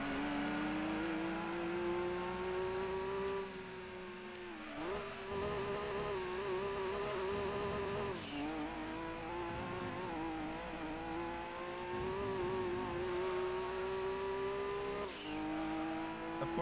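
BMW 740i on super-soft rear tyres in Gran Turismo 2, its engine droning steadily through the gears with pitch dipping and climbing on shifts and corners, alone and continuous.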